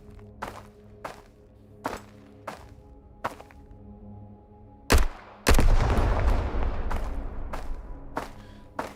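An MP5 fires single shots at mines in the game Road to Vostok, a regular series of sharp cracks followed by a loud blast and a long, rumbling decay.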